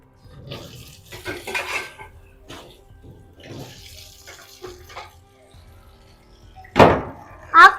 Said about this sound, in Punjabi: ਚਲ ਤੂੰ ਕਿਚਨ ਦੇ ਬਰਤਨ ਸਾਫ਼ ਕਰ ਲੈ ਪਹਿਲਾਂ